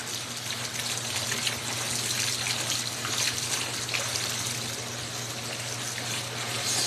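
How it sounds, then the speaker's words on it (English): Hot water pours steadily from a tap, a continuous close gush and trickle with a low hum beneath it and no talking. "That water is insanely hot."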